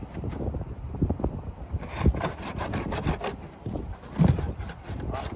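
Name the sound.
machete scraping dry laminated plywood off trailer roof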